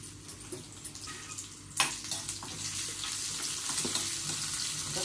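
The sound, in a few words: garlic rice frying in a pan over high gas flame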